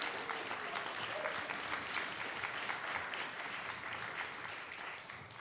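A church congregation at a Sunday service applauds warmly, a thick sustained patter of many hands at steady volume that tapers slightly toward the end, with a faint murmur underneath.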